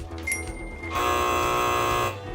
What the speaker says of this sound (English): The buzzer is wrong. The ding is right.